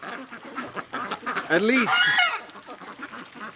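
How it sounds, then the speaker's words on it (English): Ducks bathing in icy winter water give loud honking, quacking calls that rise and fall over a soft background of splashing, with a brief spoken word near the start. "there are some hardcore ducks having baths here"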